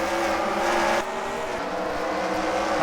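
Race cars in a sim racing game at Charlotte roar together at full throttle in a steady, dense engine drone as the field starts racing, loud and close, with no talk.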